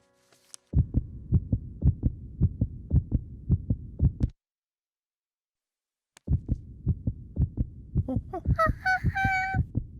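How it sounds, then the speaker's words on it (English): Cartoon heartbeat heard through a stethoscope: a steady, loud lub-dub thumping in two runs separated by a silent gap, followed by bright honking musical tones. "That's the sound of my heart."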